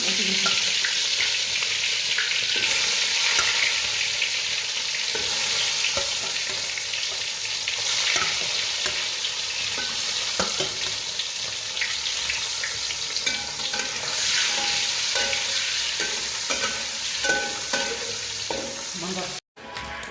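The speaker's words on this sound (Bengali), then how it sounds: "হালকা করে লাল করে নিলাম, ফ্রাই করে উঠিয়ে দিলাম" Beaten egg fries in oil in a wok, a continuous loud sizzle with stirring scrapes and crackles that runs for about twenty seconds, with a brief dropout just before the end.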